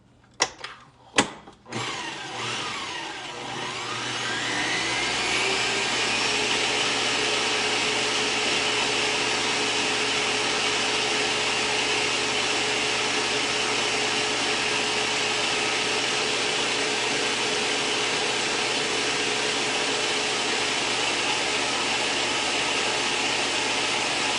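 An electric hand mixer whirs steadily as it blends the first three pancake ingredients for low-carb keto batter, starting with a few brief bursts before settling into a loud, continuous motor drone that runs without any talking.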